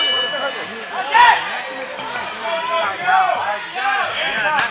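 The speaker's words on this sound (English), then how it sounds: "at the sound of the bell" A fight bell clangs to open the round at an amateur UFC-style bout, a bright ringing strike near the start with lingering metallic tone, under steady talk and shouting from people nearby.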